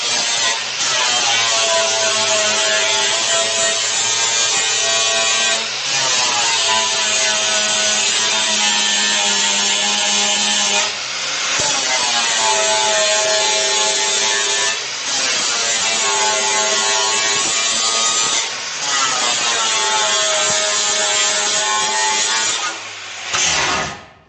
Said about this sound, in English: Now I gotta go take the grinder to it now and clean it all up.